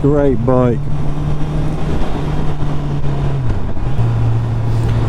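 A 2019 Honda CBR650R with its 650 cc engine drones steadily under riding wind, the pitch dipping briefly near the end as if shifting, with a voice heard briefly at the start.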